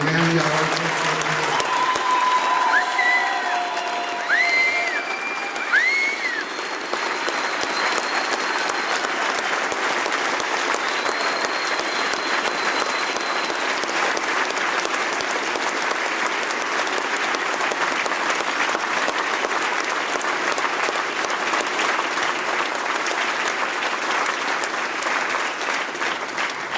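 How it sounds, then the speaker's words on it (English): A gym audience at a wrestling event breaks into loud, sustained applause that fills the room for nearly half a minute, with a few whoops and whistles near the start. "Let's have a loud round of applause for the man"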